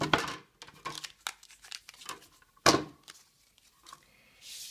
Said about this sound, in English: I'm going to run it through the Big Shot. And that will die cut it out.